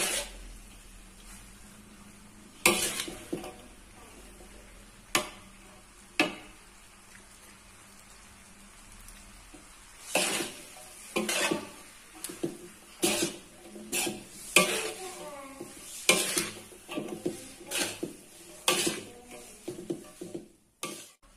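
Scraping and clattering of a utensil stirring yellow noodles and green mustard greens frying in a pan, in repeated bursts over a low background hiss, with a few louder knocks.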